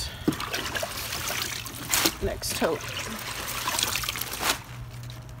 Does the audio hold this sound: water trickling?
yes